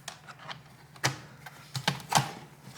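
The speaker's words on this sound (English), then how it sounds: "Make a whole bunch of clicking sounds." The plastic bottom cover of an Acer Aspire 3 A315-32 laptop snaps back into place, a scattered series of sharp, close clicks and light crunches with no speech.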